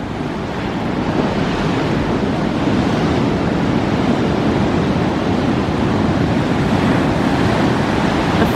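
Ocean waves at Seaburn Beach on a cold, sunny day roll in as a loud, continuous surf roar with wind buffeting the microphone, steady throughout and without voices.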